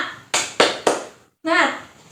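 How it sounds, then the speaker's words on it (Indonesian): A class doing the tepuk semangat clapping chant as an ice breaker, three sharp group claps in a quick rhythm followed by voices calling out together. "Oke, kita ice breakingnya tepuk semangat."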